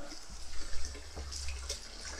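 Water from a small drill-driven pump with inlet and outlet hoses, set up outdoors in woodland where pigs are kept, splashes and gushes in a steady flow, close and fairly loud, with a low motor-like rumble underneath.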